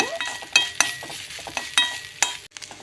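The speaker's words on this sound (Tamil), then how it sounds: "இப்போ வந்து இந்த நெய்யில் வந்து நம்ம ஃப்ரை பண்ணி எடுத்துக்கலாம் நல்லா கிறிஸ்பியாக ஃப்ரை பண்ணிக்கோங்க" Coconut pieces fry crisp in hot ghee for palm jaggery paniyaram, giving a soft steady sizzle broken by sharp scraping stirs and utensil clinks at close range, with no talking.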